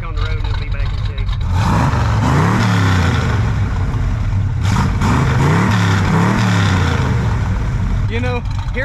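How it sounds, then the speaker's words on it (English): An old barn-found car, a father's first car, runs with a loud steady engine drone and rising harmonic sweeps as it revs, close up throughout, with some background noise and possible voices. "hearing this car make noise when it never made noise when I was a kid is just amazing"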